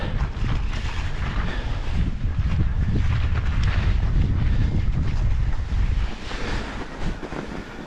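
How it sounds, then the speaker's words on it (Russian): Strong wind buffets the microphone in continuous loud rumbling gusts for several seconds while traveling a snowy mountain trail near Yalta, Crimea, in winter. "тут ветер немножко присутствует"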